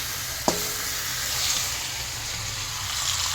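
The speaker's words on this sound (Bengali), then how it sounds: "এটা ভাজা হয়ে এসছে, আর একটুখানি ভাজি মাংসটা।" Chicken pieces frying in a pan for chilli chicken give a steady, soft sizzle throughout, with one sharp clack of a utensil near the start.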